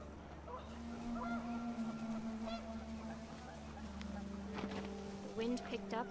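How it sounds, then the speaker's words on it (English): Panicked geese honk in the video game What Remains of Edith Finch as wind picks up, the calls rising faintly behind a steady low rumble while a voice talks over them. "The wind picked up, and panicked geese appeared and quickly went."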